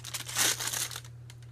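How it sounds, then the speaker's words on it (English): Hard plastic piping bag crinkling while being filled with cold process whipped soap, a close, fluttering rustle of stiff plastic that peaks briefly then fades, heard alone over a faint steady hum. "sorry for the crinkly noise,"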